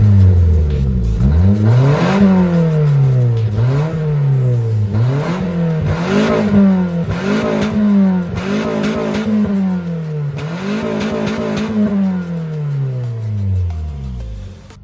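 SR20-powered Infiniti G20 exhaust revving repeatedly, engine pitch climbing and falling in a series of sharp blips, loud and close with no talk.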